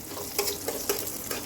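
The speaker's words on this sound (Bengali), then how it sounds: "হালকা করে গাজরটা নেড়ে নেবেন যাতে ভাজা হয়ে যায়।" Chopped carrots sizzle in oil in a wok while being stirred, a steady frying hiss broken by a few soft scraping clicks of the spoon, close and without speech.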